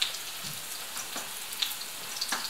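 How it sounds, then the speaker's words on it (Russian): Zucchini fritters frying in a pan give a steady soft sizzle, dotted with small crackles and pops. "Быстренько это все делаем. Будем жарить."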